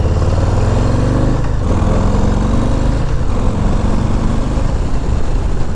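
A Harley-Davidson Low Rider S motorcycle cruises on a chilly road, its engine a loud, continuous low rumble with wind noise. Two brief dips in pitch suggest gear shifts.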